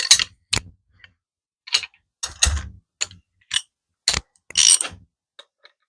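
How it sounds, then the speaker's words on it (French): A small ratchet wrench fitted with a socket clicks in short, close, sharp bursts with pauses between them, working on an engine bottom end. "Mon petit cliquet avec ma douille."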